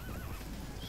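A horse neighs and whinnies in the medieval battle game Mount & Blade: Warband, a loud rising-and-falling whinny over a dense background clamor of battle noise and hoofbeats.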